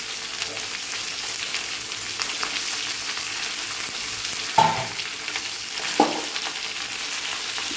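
Capsicum and beans frying together in oil, a loud, steady sizzle throughout with a couple of brief stirring scrapes, and no voices.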